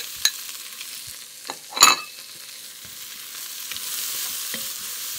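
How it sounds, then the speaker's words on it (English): Sliced onions and chopped garlic fry in a pot over turned-down heat, giving a soft steady sizzle that swells slightly toward the end, broken by a few sharp clinks and scrapes of stirring. "I'm just trying to soften the onions and introduce a little bit of browning."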